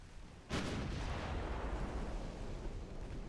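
A battleship's main guns in a naval video game, the German Lippe, fire high-explosive shells: one sharp, heavy report followed by a long, loud rumbling roar that hangs on and slowly fades.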